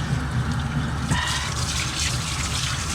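Hot water running steadily from a tap, a continuous close rushing and splashing flow with no voices over it.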